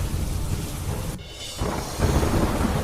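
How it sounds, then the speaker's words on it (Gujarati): Heavy rain pours down in Deoria, Uttar Pradesh, a dense loud wash of rainfall with a short dip before the downpour surges back even stronger. "ધોધમાર વરસાદ પડતા રસ્તા પર ફરી વળ્યા પાણી"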